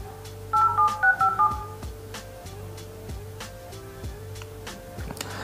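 A phone dials out to a Fastrack Revoltt FS1 Pro calling smartwatch, a series of short keypad tones followed by a steady repeating ringback pattern, clear and close.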